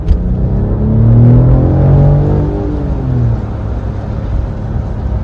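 A 2027 Mercedes S-Class V8 engine revs up close, its rising harmonic tones sweeping upward, then settling back into a steady low rumble.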